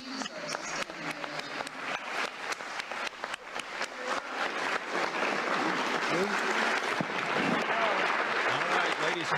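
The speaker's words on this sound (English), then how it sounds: "All right, ladies and gentlemen, thunderous applause." Applause from an audience in a played recording, starting as scattered distinct claps that swell into a thick, continuous roar of clapping at moderate level, with a voice briefly heard early on.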